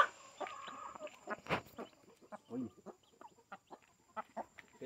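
Chickens cluck in short, scattered bursts as a Giant Indian rooster scuffles with a young cockerel, the sounds close and uneven with a brief voice in between.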